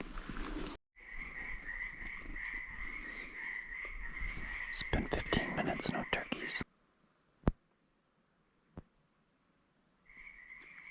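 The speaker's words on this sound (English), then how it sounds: "30 minutes, no turkey, just frogs." Frogs croak in a continuous chorus while a person whispers nearby in spring woods in eastern Oregon; the croaking stops abruptly, leaving near silence and a few clicks, then resumes.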